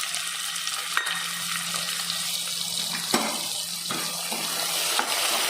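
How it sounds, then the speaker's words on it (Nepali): Meat and tomatoes frying in a pan while being stirred, a steady broadband sizzle with a low hum beneath and several sharp scrapes and clinks of the spoon against the pan, close and continuous without talk. "ठ्याक्कै टमाटर हालेर चलाउँदै पकाउनु पऱ्यो"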